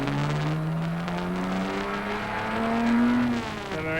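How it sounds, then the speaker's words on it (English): A 1956 Le Mans racing car accelerates hard from close on board, its engine note climbing steadily through the rev range with a whining rise, alone without voices. "Accelerating hard up to Dunlop Bridge."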